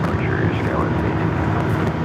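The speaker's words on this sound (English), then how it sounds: "SkyWest flight 5657, coming in from Seattle on an E-Jet" A SkyWest-operated United Express Embraer E-Jet arrives at Los Angeles International Airport, its engine noise a steady, broadband jet roar filling the scene alongside wind, with a person speaking over it.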